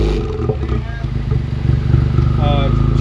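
A Honda Civic Type R fitted with an RV6 downpipe idles and revs close by, a loud, raspy engine drone building over a few seconds while people talk nearby.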